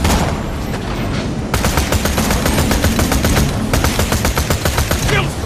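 Rapid automatic gunfire in the video game Borderlands: The Pre-Sequel, loud dense bursts of shots that pause briefly and then resume in fast rhythmic volleys.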